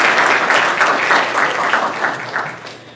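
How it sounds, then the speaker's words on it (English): Close, loud applause from a welcome gathering at a college of business, dense clapping that swells and then tapers off over a few seconds, with no talk over it. "You can clap for yourself."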